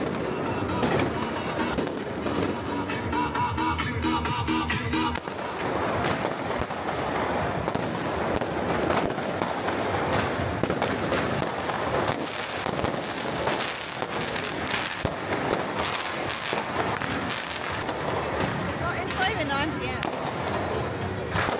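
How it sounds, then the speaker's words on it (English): Continuous New Year's fireworks bursting over the river in Budapest, a dense, loud crackle and boom of overlapping explosions throughout, with crowd voices and talk mixed in. "it's been non-stop fireworks since 8 p.m."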